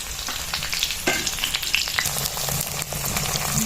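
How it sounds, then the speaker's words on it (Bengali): Sliced onions with whole spices and bay leaves fry in a pan while being stirred continuously, a steady sizzle broken by scraping strokes and small clatters of the spoon. "পেঁয়াজটা বাদামি কালার হওয়া পর্যন্ত এভাবে অনবরত নাড়তেই লাগবে"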